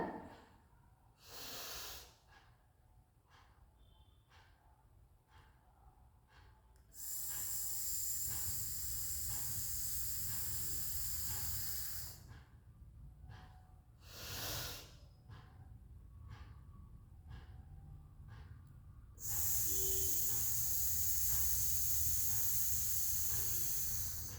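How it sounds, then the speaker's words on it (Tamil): A person doing a breathing exercise, drawing deep breaths in and forcing them out. Long, loud, hissing exhales roll out in sustained rushes, with short sniffing intakes and quieter gaps between them. No talking. "அது போல் மூச்சு நல்லா இழுத்து விடணும்"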